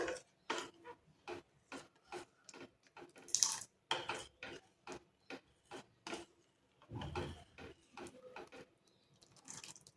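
A boiled potato is rubbed against a hand grater in a kitchen, giving a run of short rasping strokes in a quick, regular rhythm, close and quiet, with a brief pause and a heavier scrape midway.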